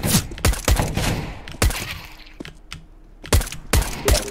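Gunfire in an online first-person shooter video game, with sharp single shots and quick bursts cracking at irregular intervals, loud and close, with quieter gaps between volleys.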